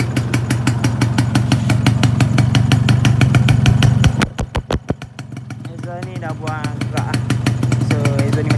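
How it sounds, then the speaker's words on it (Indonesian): A Yamaha 125ZR two-stroke motorcycle fitted with a Thai blue clutch spring and a standard block runs loud and close with a buzzy, rapid idle, stutters and dips for a moment, then settles back into its running note, with no talk. "Oh, saya nak start engine ni."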